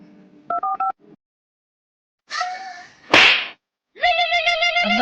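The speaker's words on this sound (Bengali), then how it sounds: "তার আমার ভাইকে ফোন করি।" A phone keypad sounds a quick burst of dialing tones, followed after a pause by a sharp slap-like hit and a longer electronic tone sequence, all fairly loud and with no talk.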